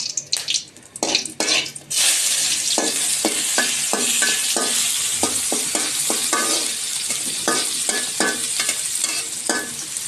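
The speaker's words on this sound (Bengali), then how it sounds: "আমি এই তেলটা দিয়ে গরম মশলাটা আর পেঁয়াজটা ভেজে নিব" A few quick utensil clicks, then a loud, sustained hiss as whole garam masala spices (cinnamon, cardamom, bay leaf) and onion hit hot oil, with rhythmic stirring taps continuing over the close, steady sizzle.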